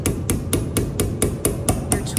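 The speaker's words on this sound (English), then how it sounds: "I just want to start with some chasing tools and my chasing hammer, just tapping away" A chasing hammer strikes chasing tools against a metal vessel in a steady run of about nine evenly spaced taps, each a sharp bright metallic hit, close and clear with no talk.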